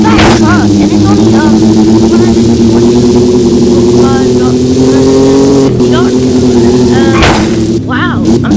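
Fast truck engine in a video game droning loud and steady as it accelerates through the gears, pitch rising and dipping with shifts, with a voice talking over it.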